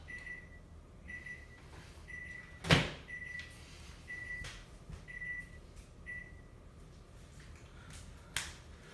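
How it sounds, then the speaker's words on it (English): A timer beeping in a quiet room: a steady series of short, evenly spaced electronic beeps, faint and repeating about every second, with a sharp click partway through and no speech. "that was my timer that says I'm way over time"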